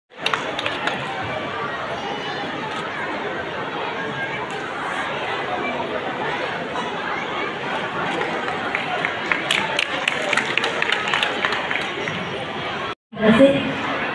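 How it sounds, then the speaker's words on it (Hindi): Loud applause rises for the honourable MP at a school's annual function in a hall, sustained crowd clapping with chatter running for about thirteen seconds before a brief cut. "हमारे माननीय सांसद जी के जोरदार वाली तालियों से"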